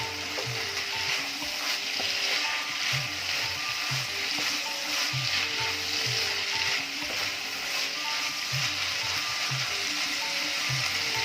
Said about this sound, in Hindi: तो अब हम इसको सिर्फ भून लेंगे। गैस को थोड़ी सी तेज़ कर देंगे जिससे कि ये जल्दी से हो जाए।